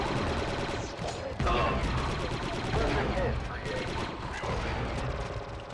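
Heavy blaster fire in Star Wars Republic Commando, a dense continuous barrage of rapid shots with mechanical clatter, loud and sustained throughout, with occasional voices underneath.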